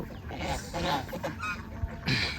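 Domestic ducks on a Bangladeshi village farm give a run of loud, nasal honking quacks, several calls overlapping close by over about two seconds.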